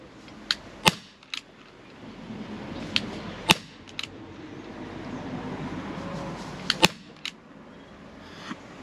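An HK P8 6mm airsoft pistol without blowback fires a handful of sharp, separate snapping shots at irregular intervals, each crisp and close against a quiet background hum.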